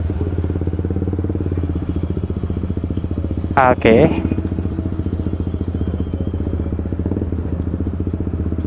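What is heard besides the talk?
motorcycles idling at a night meetup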